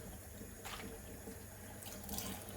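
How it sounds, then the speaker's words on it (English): Tap water runs steadily into a pot for cooking potatoes, a constant close splashing hiss with slight shifts in tone as the pot fills, with no voices. "Put my water in for my potatoes."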